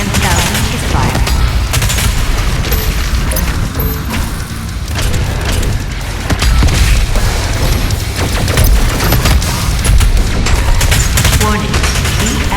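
The BFG 10,000 firing in the game Doom Eternal, a loud, continuous barrage of booming blasts and rumbling explosions that goes on without a break, with a synthetic voice announcing over it.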